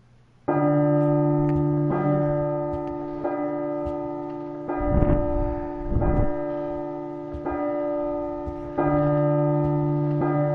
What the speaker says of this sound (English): Come on, bell, ring already.